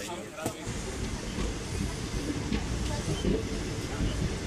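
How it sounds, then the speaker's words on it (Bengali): A superfast express train pulls out of Burnpur station, with a steady rumbling roll and hiss heard close from inside a crowded carriage and a brief knock near the start. "বার্নপুর স্টেশন থেকে আমাদের ট্রেন ছেড়ে দিয়েছে।"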